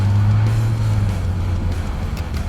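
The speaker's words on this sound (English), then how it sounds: "Power steering pump's a bit noisy." Steady vehicle running noise inside a Ford FG Falcon, with a constant low droning hum from a noisy power steering pump held beneath the broadband road and engine rumble, continuous and fairly loud throughout.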